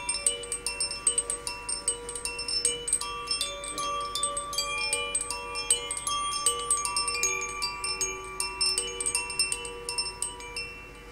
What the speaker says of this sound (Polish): Na sam koniec zazwyczaj takiej medytacji używamy takiego dzwonka, który bardzo przyjemnie brzmi.